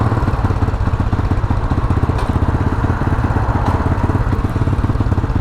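A Honda CB250RS motorcycle idles with the choke on, its single engine putting out a loud, steady, rapid thumping beat that stays even and close throughout, with no talk over it.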